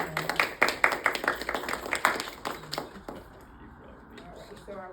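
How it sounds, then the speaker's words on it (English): A short burst of clapping from a group, brisk and close, fading into quieter room noise after a few seconds. "let's give her a round of applause"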